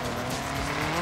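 A car in Forza Horizon 3 tearing offroad through a garden, with a loud revving engine, tire squeal and skidding in one continuous close roar, no talk.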